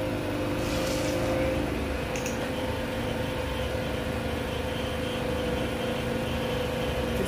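A sewing machine stitches a butterfly top with a steady, continuous mechanical hum and whir from close up, with no talking.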